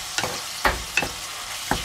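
Ground meat browning in a frying pan, stirred and mixed so several short scraping bursts break through a steady sizzle, close and fairly loud with no voices.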